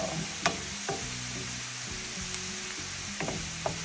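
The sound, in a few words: food sizzling while frying in oil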